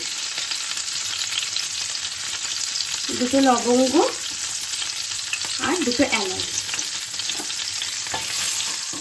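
Soft sizzle of whole spices (cumin, bay leaves, cinnamon) frying in oil in a pan runs throughout, with a person speaking briefly over it in two short bursts.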